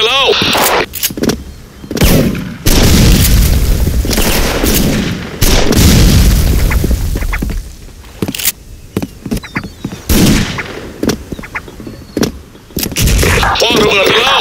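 Explosions and gunfire boom repeatedly in a video game, loud bursts in quick succession and irregular clusters, with a voice talking between them.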